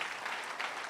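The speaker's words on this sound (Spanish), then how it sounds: "dele una ofrenda de palmas al Señor" A church congregation claps together during a Spanish-language worship service, a dense, steady wash of applause filling the whole second with no pauses.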